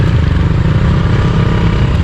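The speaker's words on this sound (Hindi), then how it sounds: "चढ़ाई पे बाइक नहीं रोकनी।" Motorcycle engine climbing uphill on a snowy road in winter Spiti, a loud, steady low rumble held under light throttle from start to end, with no talk.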